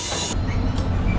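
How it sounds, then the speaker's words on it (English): A SunRail commuter train rides southbound, heard from on board as a loud, steady rumble of wheels and rails, with a brief hiss partway through and no speech. "SunRail taking the train southbound down to San Lee"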